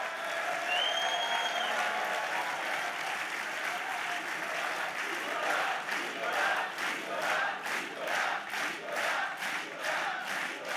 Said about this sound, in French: on peut applaudir Nicolas qui a mené ce combat